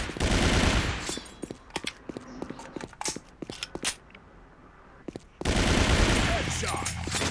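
Rapid bursts of gunfire in a team shooter video game, loud and close, with clusters of sharp shots broken by brief gaps and a dense sustained volley at the start and end.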